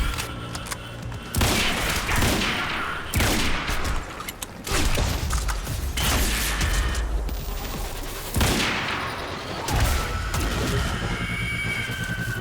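Gunfire rings out in the Quantum Break video game as loud bursts of shots and impacts in irregular clusters over game ambience, with several sharp blasts spread across the scene.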